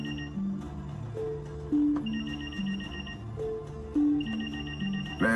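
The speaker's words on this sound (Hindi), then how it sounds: "फोन है सर।" A telephone rings with a repeating melodic ringtone, the same short tune cycling twice in a quiet room.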